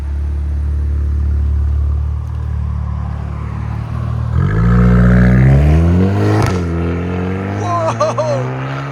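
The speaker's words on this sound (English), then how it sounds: "GTI 2025 with full straight pipes. Lots of pops." A 2025 VW Golf GTI with a 2.0L turbo engine and full straight pipes revs loudly and close by, its pitch climbing and falling through several blips, with crackling pops on the overrun near the end.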